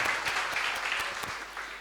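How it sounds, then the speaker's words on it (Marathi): A church congregation claps after a testimony at a Sunday Fathers Day service, with continuous moderate applause that tapers off slightly toward the end. "जरा जोरात टाळ्या वाजल्या पाहिजेत साक्ष झाल्यानंतर"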